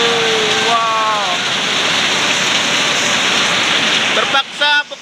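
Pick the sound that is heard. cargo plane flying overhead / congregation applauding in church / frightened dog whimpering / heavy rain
heavy rain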